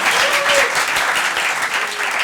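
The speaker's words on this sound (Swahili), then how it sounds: "Wapi makofi yake?" A studio audience on a Kenyan talk show gives a short burst of steady, dense applause for a guest.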